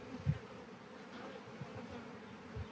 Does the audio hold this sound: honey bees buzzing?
yes